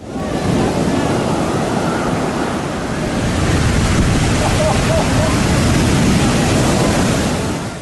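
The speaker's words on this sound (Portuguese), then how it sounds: "as ondas do oceano chegam à costa com força total" Powerful ocean waves crash onto Lumahai beach on Kauai, Hawaii, where no protective reef breaks the surf. The roar of churning water is continuous and loud, with wind noise buffeting the microphone throughout.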